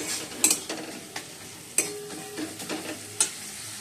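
Fried onion, tomato, slit green chilies, ginger paste, crushed garlic and ground spices for fish curry, stirred in a pan: soft sizzling under several sharp clacks and scrapes of a spoon against the pan.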